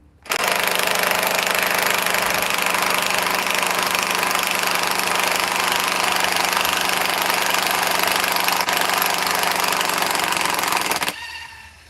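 Cordless impact driver running in first gear, giving a loud, steady mechanical hammering whir that holds constant for about eleven seconds before stopping abruptly, close by with no talking.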